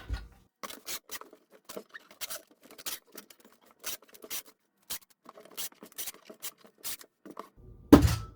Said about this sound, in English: Now we are going to close it up like so and tape it up.